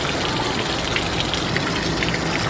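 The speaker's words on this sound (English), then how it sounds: "which allows the water to come out the bottom" Water drains out the bottom of a Fogatti tankless water heater, a steady broadband rushing and splashing that continues unbroken and close throughout.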